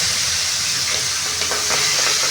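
Cowpea beans tipped into hot oil already seasoned with asafoetida, giving a loud continuous hiss and sizzle close by with a few sharper crackles near the end, no talking.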